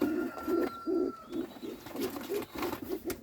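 Young yellow Czech pigeons coo in a steady, repeating rhythm of low throaty phrases, close by in a new loft, with faint background hiss and an occasional distant chirp.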